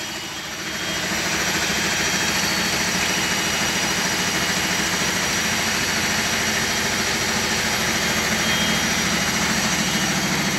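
A water pump runs with a loud, steady mechanical drone and a rapid fine pulse. It starts within the first second and holds unchanged throughout, with no voices.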